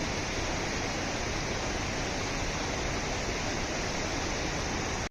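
Steady, full rush of a waterfall and the stream flowing below it at Sajla, loud and close, a continuous broadband roar with no talk, cutting off abruptly at the very end.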